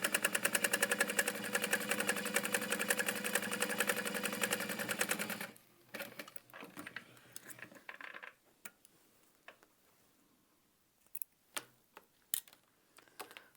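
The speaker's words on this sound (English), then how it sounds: "So as I'm sewing those, I do have a seam guide on my machine." A sewing machine top stitches a handbag strap, running in a fast, steady mechanical rattle for about five seconds before stopping, followed by scattered faint clicks and taps.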